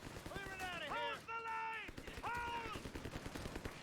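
Machine gun fire rattles in rapid bursts during a 2v2 Company of Heroes 3 match on a farmland map. Tonal in-game voice calls and effects mix in.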